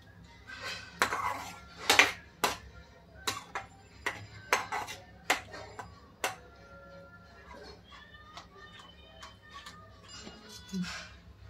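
A spoon clanks and taps sharply against a metal pot in a quick irregular series while curd is mixed into an okra and pea gravy, the strikes close and loud, then easing into softer scraping.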